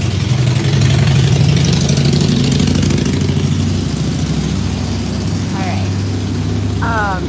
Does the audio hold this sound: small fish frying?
no